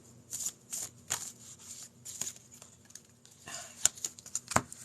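Oracle cards being shuffled and handled, a series of quick papery riffles and taps in short bursts, close and moderately quiet.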